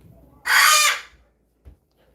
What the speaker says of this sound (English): The bird, guys, he's always talking.